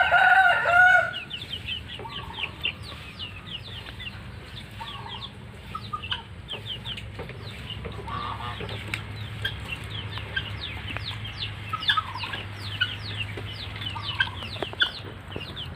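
A flock of guinea fowl kept on a farm calls in repeated rhythmic chattering cries, with one loud burst near the start followed by steady overlapping calls over a low background hum.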